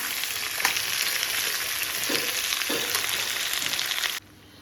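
Onions sautéing in a hot pan, a steady broadband sizzle with a few soft stirring scrapes, cutting off abruptly near the end to a low quiet hum.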